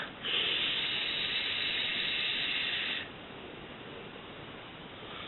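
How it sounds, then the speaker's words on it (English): A steady hissing sizzle from a rebuilt 26-gauge, five-wrap vape coil being fired runs for about three seconds, then cuts off, leaving a quieter background hiss. "So it does sizzle straight up."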